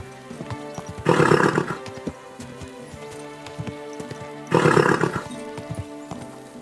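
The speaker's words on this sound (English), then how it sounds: "Easy, good horse." Horse in the game Kingdom Come Deliverance 2 gives two loud, close whinnies a few seconds apart, over soft clip-clopping hooves and a patter like rain.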